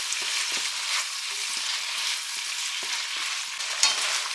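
Ramen noodles and beef with brown sugar stirred in a hot pan: a constant loud sizzle with regular soft scraping strokes of the spoon, close up and without voices.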